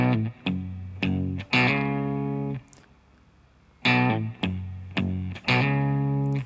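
Electric guitar playing a short country-funk riff with hammer-ons and pull-offs, clean sustained notes in choppy phrases with a brief pause midway, played alone.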